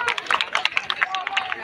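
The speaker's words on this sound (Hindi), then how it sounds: "इसके लिए जोरदार तालियां।" Crowd clapping for a child receiving a prize at a Republic Day event, quick uneven hand claps from a nearby group with chatter mixed in.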